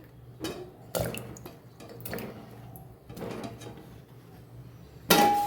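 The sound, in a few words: bitter gourds put into a pressure cooker of water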